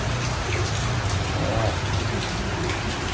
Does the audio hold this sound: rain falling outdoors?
yes